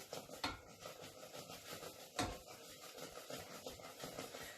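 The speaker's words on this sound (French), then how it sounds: "Pendant que je remue" Homemade cinnamon candy mixture being stirred in a pot, giving soft continuous scraping and rubbing of a spoon with two louder knocks against the pot, quiet and close.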